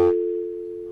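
A steady telephone line tone on a radio call-in show where the caller never connects, a continuous hum-like pitch that follows a brief noisy burst and stays loud and unbroken alone.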